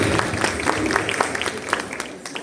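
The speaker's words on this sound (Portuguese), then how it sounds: "uma salva de palmas para ela" An audience at a talk applauds, a dense continuous patter of clapping hands with scattered louder claps, fairly close and steady.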